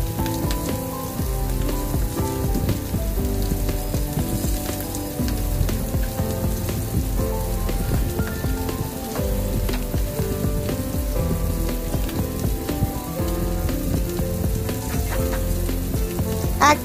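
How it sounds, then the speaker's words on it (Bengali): Marinated rohu fish pieces, coated in salt and turmeric, fry lightly in hot oil in a pan, giving a steady, dense sizzle with crackling pops throughout, close and alone without speech. "নুন হলুদ মাখিয়ে ম্যারিনেট করা রুই মাছ হালকা করে ফ্রাই করে নিচ্ছি"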